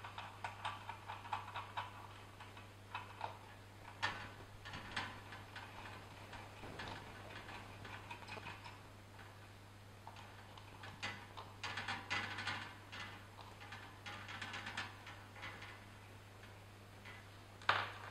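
A nut and bolt are unscrewed on a ceiling fan, making irregular metallic clicks and ticks over a steady electrical hum, quiet and close, with no talking.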